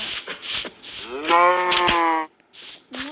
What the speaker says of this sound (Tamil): மாடு வெளியே வர பார்க்குற